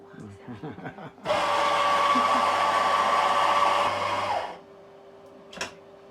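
An electric coffee grinder grinds coffee beans in one loud, steady whir of about three seconds, close by, with brief talk and laughter before it starts.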